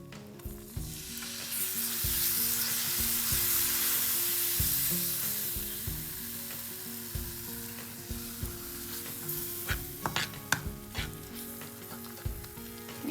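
White sauce of butter, flour and milk being stirred in a hot pan, a loud hiss of sizzling that eases as milk goes in, then repeated clinks of the spoon against the pan.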